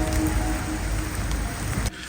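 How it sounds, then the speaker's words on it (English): Rain, hail and sleet pour down during a cold winter boat haul-out in Japan, a dense, loud, close patter that holds steady and then cuts off abruptly near the end, with no voices. "the rain, the hail and the sleet did eventually stop"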